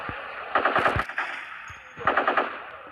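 Two quick bursts of rapid automatic gunfire from a sniper video game ring out sharply, separated by a brief pause, with no talking over them.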